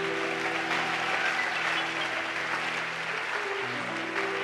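A church congregation claps and cheers for the Lord in steady, full applause that holds at an even level throughout, with sustained organ-like tones underneath.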